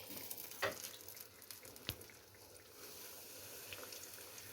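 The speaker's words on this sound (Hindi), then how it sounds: "इसको अच्छे से हम करने के बाद फिर हम इसको अब गरम ऑयल में डाल देंगे" Flour-coated fish pieces fry in hot oil over a low flame, giving a soft, continuous sizzle with a couple of brief clinks and pops, faint and close, with no voices.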